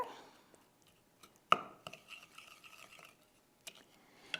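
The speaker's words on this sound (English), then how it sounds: "So we're going to add that right into our salad dressing mixture. and just give it a little stir." A utensil quietly stirs a homemade salad dressing mixed with about half a cup of feta, making soft, sparse scrapes and light taps with a few sharper clicks in a quiet room.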